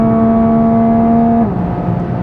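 A Toyota Supra MK5 engine drones at steady revs with a strong tonal hum, then the pitch drops sharply as the automatic transmission shifts up, settling into a lower, rougher engine note.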